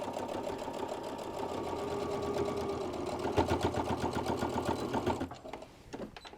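A home sewing machine runs steadily while stitching the hem of a fabric apron, a fast even whirring needle rhythm that grows more pronounced midway before stopping near the end, with a few short mechanical clicks after.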